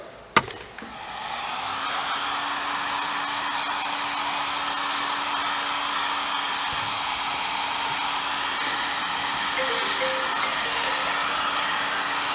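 Heat gun warming PVC pipe to bend it for a homemade bow, a steady continuous blowing whir with a faint tonal hum, running alone after a brief click at the start.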